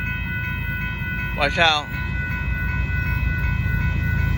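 A northbound CSX auto-rack freight train rolls past a road crossing at Dittmar Road in Austin, Texas, with a short horn blast over steady rumbling rail noise, and a person speaks briefly nearby.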